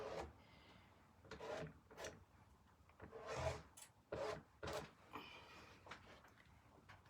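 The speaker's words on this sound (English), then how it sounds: "Just scraping off this excess here." A tool scrapes excess chalk paste off a Chalk Couture stencil in repeated short, soft rasping strokes at close range, quiet and irregular.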